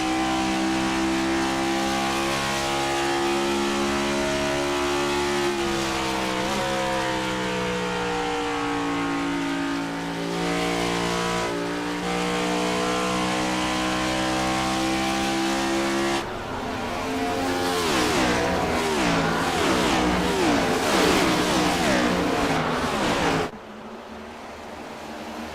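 Stock race cars roar around the track in iRacing, a loud sustained engine drone with rising and falling pitch as the cars pass, turning harsher and more ragged near the end before cutting out.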